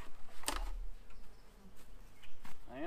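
Honey bees buzz as a hive is opened and its heavy roof lifted, a continuous close insect drone with a few brief knocks and rustles.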